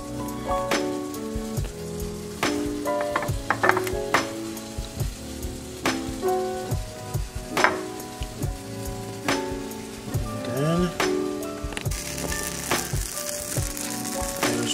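Food sizzles in butter in a pan amid clattering kitchen handling, with scattered taps, knocks and scrapes over a soft sizzling hiss that carries on throughout, and no talking.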